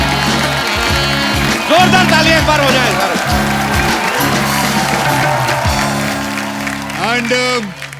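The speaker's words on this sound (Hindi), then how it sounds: "जोरदार तालियां एक बार हो जाए।" A studio audience claps on a comedy talk show, a broad wash of applause mixed with loud music and sustained tones, while a voice sounds over parts of it.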